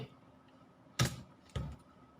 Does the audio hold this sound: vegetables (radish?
no